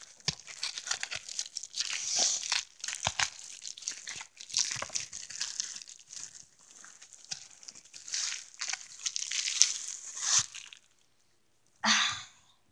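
Bubble wrap around a bath bomb crinkles and tears in repeated close, uneven bursts, with a brief pause and one last rustle near the end.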